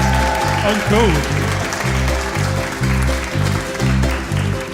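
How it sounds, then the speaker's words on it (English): Applause for band members at a live gig in an old church blends with a steady, rhythmic musical backing while someone speaks over it. "Give Simon a round of applause."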